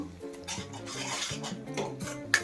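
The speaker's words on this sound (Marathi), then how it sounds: "मसाला छान आपल्याला तेल सुटेपर्यंत भाजून घ्यायचा आहे" Spice paste being roasted in oil in a pan for a wedding-style brinjal and potato curry, a utensil scraping and clinking against the metal pan in steady stirring strokes, close and fairly soft, with no talking.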